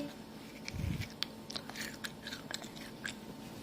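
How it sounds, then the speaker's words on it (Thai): A child bites and chews crunchy candied, dried red lotus stems, giving one sharp bite followed by a run of quiet, close crunching chews. "ที่นี่น้องการลองทาน ใกล้ ๆกรอบไหมกรอบ"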